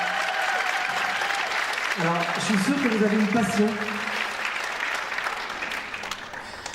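Audience applause at a Miss Ronde France beauty pageant runs steadily throughout, a dense crowd of clapping while someone speaks over it.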